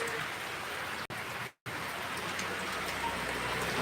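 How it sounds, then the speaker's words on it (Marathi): Rain falls outside a house as a steady, close hiss. It cuts out for a moment twice, with a very short gap and then a slightly longer one, before the same dense patter carries on. "हे बघा पाऊस सुरू आहे"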